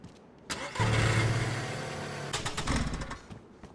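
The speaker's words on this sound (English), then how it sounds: "Why is the engine not starting?" A car engine in the video game DayZ cranks and briefly catches, a sudden mid-pitched rumble that holds for about a second and a half, then sputters and fades into scattered knocks.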